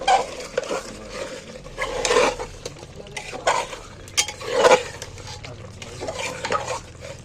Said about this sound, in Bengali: এইবার ভালো করে দিয়ে কষিয়ে নেবো